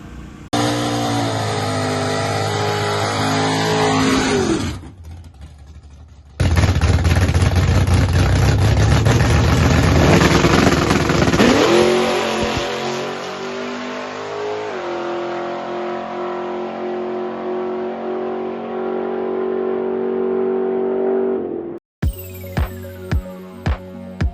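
A loud race car engine, newly installed, revs and roars as it launches hard from the start line at 2,500 rpm, pitch climbing through gears, then settles into a steady drone before cutting off abruptly.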